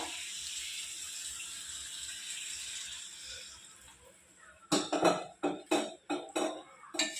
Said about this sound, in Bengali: আমি অল্প পরিমাণ জল দেবো যেহেতু সব ভাজা